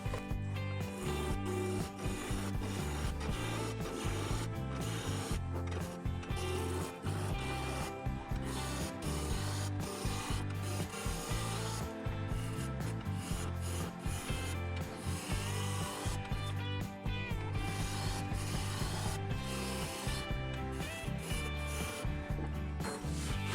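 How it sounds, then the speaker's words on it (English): Wood spinning on a lathe at 1000 RPM being roughed round with a spindle roughing gouge: a steady, continuous scraping and rumbling cut with rhythmic pulsing, close and unbroken for the whole stretch, with no talk. "I'll be turning at 1000 RPM using my spindle roughing gouge."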